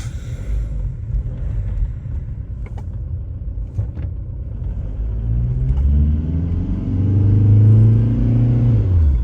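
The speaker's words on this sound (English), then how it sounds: "So this car is turbo and it's diesel, so definitely you get the initial lag that turbo has" A 2004 Volkswagen Jetta turbo diesel engine drones low inside the cabin, then climbs in pitch as it accelerates, the rumble swelling louder toward the end.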